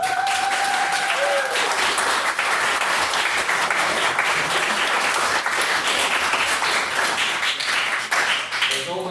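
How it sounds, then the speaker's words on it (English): A crowd at a debate applauds loudly and steadily, dense clapping filling the room throughout, with a few voices faintly underneath. "have a round of applause for their quality"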